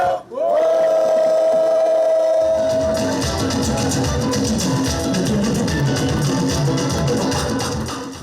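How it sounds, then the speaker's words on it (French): A village crowd at a chief's enthronement in Ayo Obou (PK61) sings and cheers loudly. A dense, sustained roar of many voices follows a brief high whistle-like tone at the start. "Les habitants, eux, peuvent applaudir, chanter et danser."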